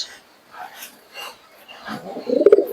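Giribaz pigeons at a Murshidabad pigeon sale, cooing close by: quiet rustling at first, then a short run of throaty, pulsing low coos near the end, with faint talking in the background.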